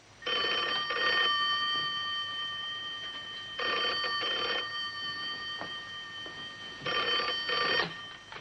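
An old-style telephone bell rings in three long double-burst rings, loud and close, during a call placed to London in a 1960s spy drama.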